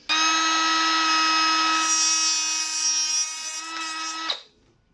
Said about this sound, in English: So I'm using my cut-off saw just because I've got it in the reptile room.